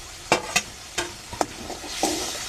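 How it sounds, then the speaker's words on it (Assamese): Dried fish frying with spices in a pan, a low steady sizzle broken by several sharp scraping clicks of a spatula stirring against the pan, close and fairly loud, with no talk. "এতিয়া শুকান মাছখিনি দি আৰু অলপ ভাজি ল'ম।"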